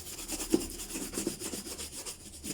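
Shoe polish buffed onto a black leather shoe by hand, a soft continuous rubbing with a couple of slightly sharper strokes, close and fairly quiet with no talking.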